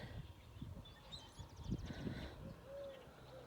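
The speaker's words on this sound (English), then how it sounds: "Birds chirping." Birds chirp and coo faintly in an open grassy field outdoors on a Sunday evening, with a few thin high calls and trills over low rumbling wind or handling noise.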